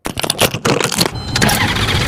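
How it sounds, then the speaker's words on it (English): Car engine cranking repeatedly without catching, a rapid rhythmic starter churn that keeps going through a short burst, loud and close, with a brief gap and click early on. "Car won't start, not optimal for reliable transportation"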